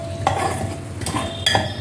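Cloves, cardamom and cinnamon sautéing with ginger-garlic paste in a pan, a soft steady sizzle broken by a few scraping stirs of a spoon against the metal, close and fairly quiet with no talking.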